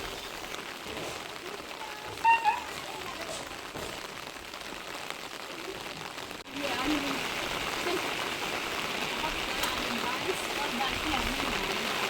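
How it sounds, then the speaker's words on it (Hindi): Steady broadband hiss of heavy monsoon rain falling in a foggy mountain village, growing slightly louder and denser partway through, with a brief faint voice-like tone early on. "क्योंकि बारिश ज़्यादा हो रही है।"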